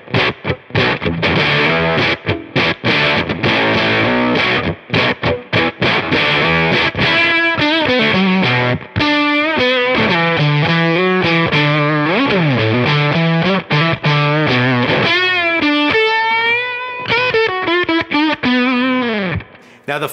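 Electric guitar played through a Beetronics Octahive V2 octave fuzz pedal set to octave mode, giving a loud, thick, distorted tone with busy riffing that gives way to sustained bent notes and slides, with no voices.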